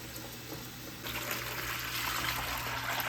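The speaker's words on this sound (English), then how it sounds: "I'm going to be filling this bucket, I guess, with lukewarm water" Lukewarm water pours into a bucket, a quiet trickle that swells about a second in into a steady gushing fill, then cuts off abruptly at the end; no one speaks.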